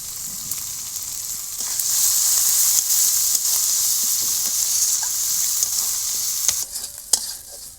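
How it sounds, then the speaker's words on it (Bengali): Masala spice paste sautés in oil in a pan for a village-style tengra fish curry, a steady loud sizzle punctuated by clicks and scrapes of a spatula stirring, heard close with no talking. "মশলাটা একটু বেশি করে কষাতে হবে"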